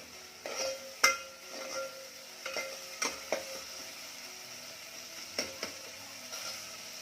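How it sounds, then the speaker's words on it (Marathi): Ginger garlic paste is sautéed with chicken in a pan for Kolhapuri chicken rassa, with a quiet, steady sizzle and a few sharp spoon scrapes and clinks against the pan. "पेस्ट छान परतून घ्यायची आहे"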